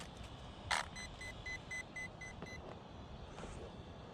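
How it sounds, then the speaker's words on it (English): Electronic speed controller in an Arrma Talion RC car beeping in a parking lot: after a short sharp chirp comes a steady series of about eight evenly spaced high electronic beeps, faint against quiet background hiss. "I've never heard 8 beeps before from one of my own ESCs."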